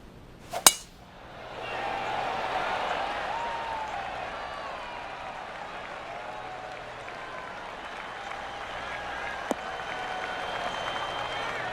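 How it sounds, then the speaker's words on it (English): Polite golf clap from a gallery crowd in the PGA 2K23 video game, a sharp click at the start and then steady, moderate applause that carries on without pause. "Oh, golf clap."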